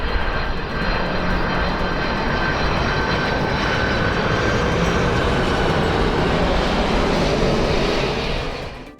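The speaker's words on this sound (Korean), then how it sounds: "비행기가 지금 내려오는데" An airplane descends to land near Yeongjong Island, giving a loud, continuous roar of engines and rushing air that holds steady throughout, with heavy wind noise mixed in.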